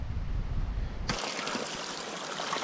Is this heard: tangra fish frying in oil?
no